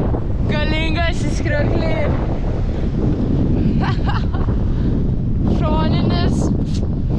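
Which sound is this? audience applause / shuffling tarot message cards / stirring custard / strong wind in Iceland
strong wind in Iceland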